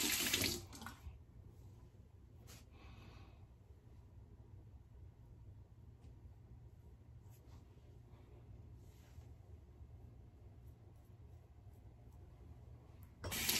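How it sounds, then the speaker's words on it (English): A tap runs steadily into a sink during a wet shave with a single-blade razor, a soft continuous hiss of flowing water bracketed by louder splashes at the start and end. "A little bit more warm water."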